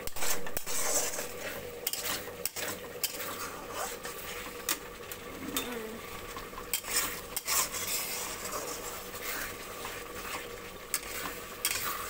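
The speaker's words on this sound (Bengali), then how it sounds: "মশলাটা সুন্দর করে কষিয়ে নেব" Masala for Bengali chicken kosha being stirred and sautéed in a pot, with steady scraping of a spoon against the pan over a constant low frying hiss, repeated clanks throughout, no talking.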